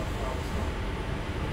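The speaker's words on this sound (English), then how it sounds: "We're just on the train, just hanging out." Steady low rumble and rushing noise of a moving train carriage, continuous and even throughout.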